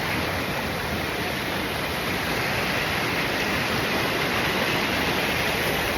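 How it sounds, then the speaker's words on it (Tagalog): Okatse (Kinchkha) Waterfall near Kutaisi, Georgia, roars as a loud, constant, broadband rush of falling water that fills the scene without voices. "we are in the waterfalls"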